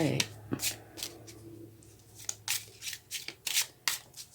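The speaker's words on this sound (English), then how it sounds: "they're not wanting to shuffle smoothly" Lenormand cards shuffled by hand in a string of crisp riffling bursts, close and fairly loud, with a low steady hum underneath and a brief voice near the start.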